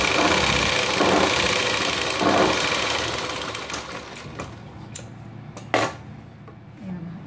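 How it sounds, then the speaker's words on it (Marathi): A sewing machine stitches along a blouse strip with a steady whirring hum that slows and fades after a few seconds, followed by scattered clicks and light handling knocks, close by. "ही पट्टीवर आपल्याला शिलाई मारायची."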